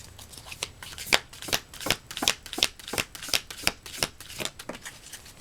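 Tarot cards being shuffled by hand, a steady run of crisp riffling bursts repeating about every half second, close and fairly quiet, with no talking.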